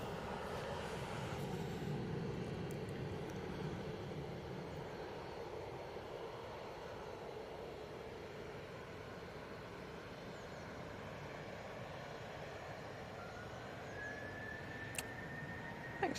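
An airliner lands at Manchester Airport, a faint steady roar of engines and rushing air heard from a distance, slowly fading, with a thin rising whine near the end.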